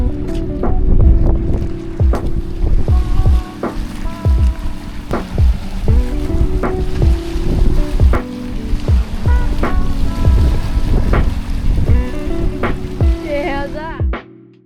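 Wind buffets the microphone over ocean surf on the coast of Australia's outback, a loud, rough, continuous rumble with repeated knocks and thumps.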